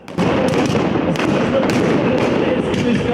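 Blank gunshots fired at a historical reenactment, a few sharp cracks breaking out over a dense, steady wash of crowd and outdoor noise, with voices faintly in the mix.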